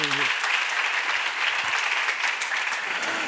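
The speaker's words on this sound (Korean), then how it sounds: "박수로 한번 하세요" A church congregation bursts into steady, dense clapping that fills the room, loud and continuous throughout, with a brief trace of the preacher's voice at the very start.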